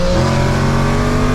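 A supercharged Stage 2 Whipple 2024 Mustang GT accelerating hard, its engine a loud, dense roar with steady pitched harmonics that holds strong through the short burst, close to the microphone.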